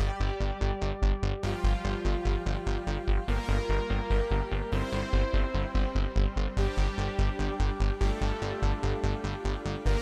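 The verse of a retro 1980s-style montage song plays with no drums: a steady, driving synth pulse on every beat under sustained chords and a melodic line, loud and continuous for about ten seconds with no voices.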